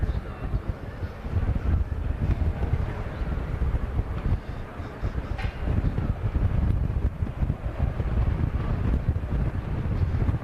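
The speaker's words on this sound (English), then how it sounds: "Getting absolutely battered by the wind up here." Strong wind at the Silverstone circuit buffeting the microphone, a continuous rough, gusty low roar with fluttering rumble throughout, no clear voices.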